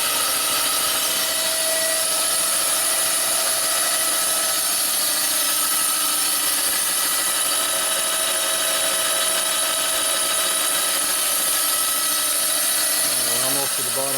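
A boring machine cuts metal from a Harley twin cam big-bore cylinder, a steady, loud, dense grinding hum that runs without a break, with a shift in tone near the end.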